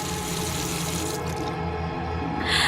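Steady broadband rush of water pouring from a tap into a sink, continuous and close, with a brief shift in tone near the end.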